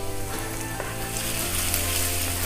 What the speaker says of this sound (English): now while the ginger garlic is frying